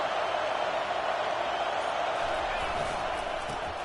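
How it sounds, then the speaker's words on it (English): Stadium crowd roar in a college football video game, Florida versus Texas, a sustained loud wash of crowd noise building at a red zone defensive stand, with a commentator talking over it. "And here comes the noise. This crowd is trying to inspire this defense to make a big red zone stop."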